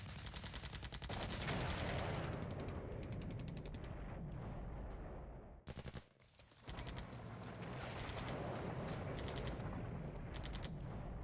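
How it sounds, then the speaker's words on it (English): Incoming enemy artillery and gunfire in the Cold War wargame Flashpoint Campaigns: long rapid bursts of loud, rattling fire that stop briefly for a moment of near silence, then start again and continue to the end. "Ooh, we're actually taking enemy artillery."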